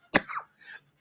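One sharp, close cough, then a softer throat-clearing sound after a brief pause, with nothing else around it.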